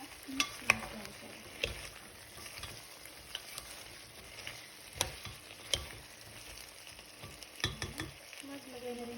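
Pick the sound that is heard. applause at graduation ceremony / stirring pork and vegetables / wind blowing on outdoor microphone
stirring pork and vegetables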